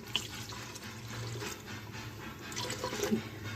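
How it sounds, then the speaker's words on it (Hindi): A cup of water is poured into a pan of fish masala curry, giving a soft, continuous splashing trickle at close range in a quiet kitchen. "मैंने 1 कप पानी इसमें डालूँगी।"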